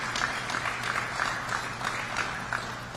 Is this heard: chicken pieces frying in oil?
no